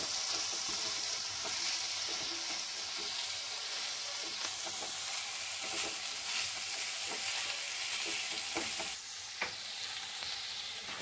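Vegetables fry in a pan with a dense, steady sizzle and occasional stirring clicks, close and fairly quiet, with no voices.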